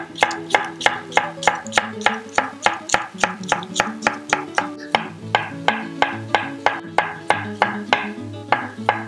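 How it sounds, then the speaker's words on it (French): A knife chops red and green bell peppers on a cutting board in fast, steady strokes, about three per second, crisp and close with no talking. "On va venir couper le poivron, les deux poivrons, poivron rouge et poivron vert."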